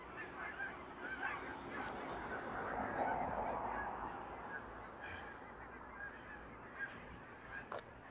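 A flock of geese honking at a distance near water in Regina in October, a steady chorus of overlapping calls over faint outdoor background noise.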